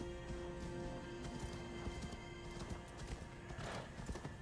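Rhythmic clip-clop of horse hooves at a steady trot in Assassin's Creed Valhalla, faint, with a brief whinny over a constant background hum.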